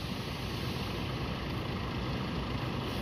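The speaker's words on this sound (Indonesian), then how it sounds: "Unit pertama dari bis PBP pindah dari shelter menuju ke depan agen ya untuk menaikkan penumpang" A PBP bus engine rumbles steadily as the coach pulls away from its shelter at Mendolo bus terminal, a continuous low, noisy drone mixed with broad terminal ambience, fairly faint and with no voices.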